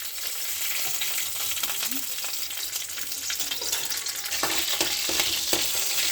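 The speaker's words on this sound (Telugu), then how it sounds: "నెక్స్ట్ వచ్చేసి పచ్చిమిర్చి వేయించుకోవాలన్నమాట" Green chilies frying in hot oil in a pan, a steady broadband sizzle throughout with occasional sharper crackles and spits, close and fairly loud, no talking.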